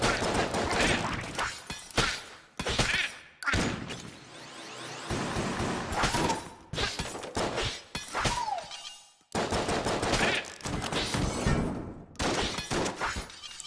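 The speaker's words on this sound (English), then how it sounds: "using Smiley's revolver to get some more damage off" Rapid volleys of revolver fire from Smiley's revolver in the video game Enter the Gungeon, loud bursts of shots in quick succession broken by brief pauses, with whooshes and shattering effects mixed in.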